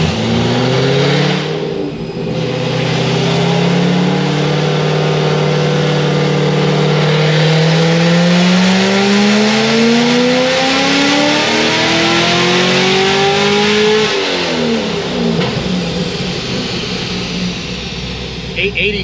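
A supercharged 1150 HP C6 Corvette ZR1 with a Kong ported blower and stock bottom end roars through a full dyno pull, rising steadily in pitch for about fourteen seconds before lifting off, loud and close, with a voice briefly heard.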